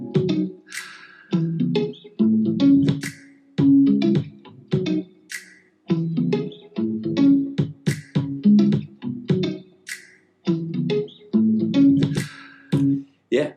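A short pitched-up music loop taken from a sample library, in a pop vibe. Bright chopped vocal-like phrases repeat in a bouncy rhythm with brief gaps, moderately loud with no talking over it.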